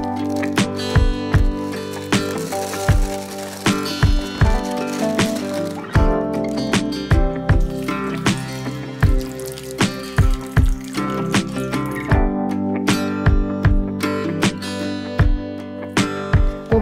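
Water is poured over a compressed coconut fibre brick to rehydrate it, giving a run of close, irregular splashes and drips that repeat over a steady wet background.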